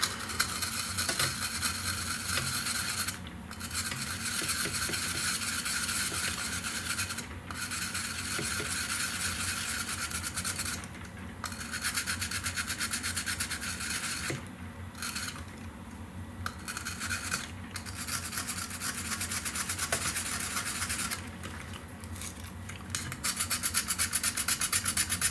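A fiberglass pen scrapes a cracked circuit board from a 19-inch G07 arcade monitor, making continuous close gritty scratching strokes in a steady rhythm, broken by several short pauses over about twenty-five seconds.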